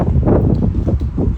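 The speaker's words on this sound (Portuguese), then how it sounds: "Tá ventando aqui, espero que o áudio não atrapalhe muito." Wind blows into a microphone outdoors, a steady low buffeting rumble with no talk over it.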